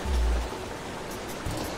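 Steady broadband rush of a waterfall in the Pokémon Battle Revolution battle arena, a constant ambient wash with a low thump near the start and another low rumble toward the end.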